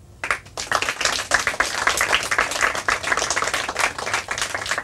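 A small audience claps unevenly at a quiz event, sharp individual hand claps overlapping in a brisk, uneven patter for several seconds.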